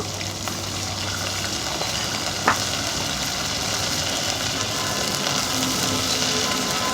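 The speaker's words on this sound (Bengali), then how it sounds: "ভালো করে আমি কষিয়ে নেব" Spice paste of ground masala and chopped green chilli sizzles steadily in a pan, a continuous broad frying hiss at moderate loudness with no voices.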